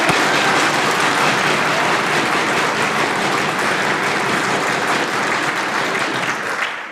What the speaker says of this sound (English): Would the House please join me in a very raucous round of applause